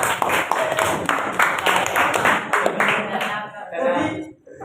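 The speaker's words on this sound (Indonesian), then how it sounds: "Tepuk tangan Mas Noval." Brief clapping for Mas Noval at a university teaching-practice session in Indonesia, a few quick claps mixed with people's voices and chatter, fading out toward the end.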